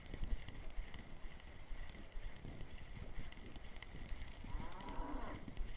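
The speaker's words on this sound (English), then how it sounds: "And we even have cow ambience now." Cattle ambience in the fishing game Russian Fishing 4: faint farm-animal sounds with a low moo near the end and light shuffling hoof noise over a quiet outdoor background.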